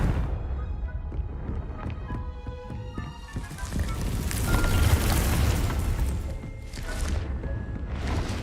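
A spell blast erupts in the Hogwarts Legacy video game, a booming explosive burst with rumbling debris over dense game effects and music, the swell peaking midway and returning in later surges.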